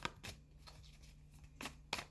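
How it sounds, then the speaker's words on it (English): Tarot cards shuffled by hand in a few quick riffling bursts, separated by quieter pauses, close and fairly soft with a faint steady hum underneath. "look at how long I'm shuffling"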